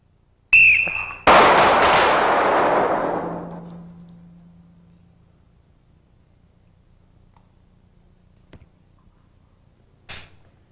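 Handgun shots fired on a whistle cue during a low-light shooting drill: a short whistle, then a single loud, sharp pistol shot with a long decaying echo, followed by quiet and a faint click and distant tap later.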